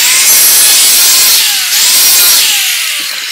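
A track saw cuts through wood in a woodworking shop with a loud, continuous whine and rasp, its pitch slowly dropping as the blade works through the cut.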